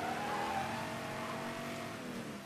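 A car driving in the video game Mafia III, the engine droning and revving steadily at moderate volume with a faint whine, no talking.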